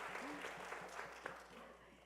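An audience at an AAPI business expo morning panel claps steadily for a couple of seconds, a soft, even patter heard from a distance with a voice underneath.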